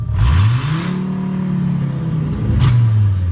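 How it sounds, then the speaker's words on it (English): A Volvo V70 XC wagon with an open header and straight pipe revs twice, climbing then falling in a loud, raspy roar with a steady rumble between the blips. "let me rev it a little bit though"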